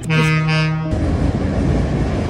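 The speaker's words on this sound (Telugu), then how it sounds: "ట్రైన్ వెళ్ళిపోయిందిరా నాయన" A train goes by in the USA, opening with a loud sustained horn blast that cuts off into a broad, close rushing rumble of passing rail cars.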